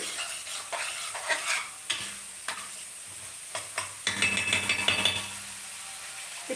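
Ingredients for rasam are fried in a pan with a soft sizzle, while a spoon scrapes and clinks against the metal in irregular strokes that cluster more densely toward the end.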